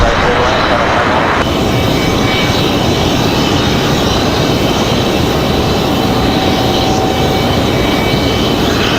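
An airplane lands on runway 5 right at Raleigh-Durham International Airport, its engine roaring loud and steady throughout, with a person's voice over the top.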